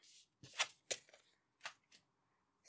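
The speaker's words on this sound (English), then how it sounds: "I am going to shuffle a little bit more with this tarot deck" A tarot card deck being shuffled in several quick riffling bursts with short pauses between them, crisp and close in an otherwise quiet room.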